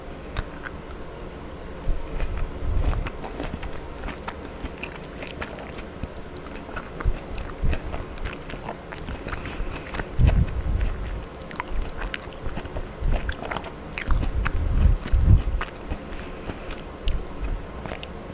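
Close-up wet chewing and biting of orange pieces, soft squelches and crunches coming in bursts against a quiet background, with no speech.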